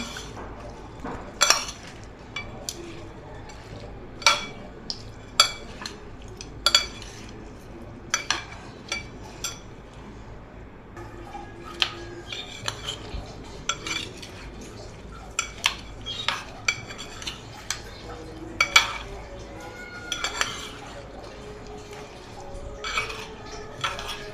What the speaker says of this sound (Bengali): এখন আমি এগুলোকে খুব ভালো করে মিক্সড করে নিচ্ছি চামচ অথবা হাতের সাহায্যে